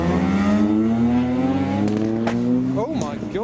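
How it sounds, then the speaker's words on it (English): A Mazda RX-8 rotary engine revving at a car meet, a rising close engine note held and climbing for a few seconds before dropping as it pulls away, with people talking over it. "RX-8."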